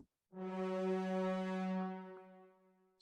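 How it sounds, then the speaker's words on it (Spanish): A loud, low orchestral brass braam hits suddenly and holds briefly, a heavy sustained tone that decays away after about two seconds. "hay una articulación que se llama Bram,"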